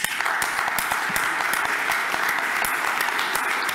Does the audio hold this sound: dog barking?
no